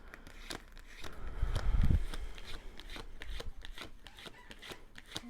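Cards are riffled and shuffled with crisp, rapid flicking and a soft thump, close up, continuing in a rustling patter.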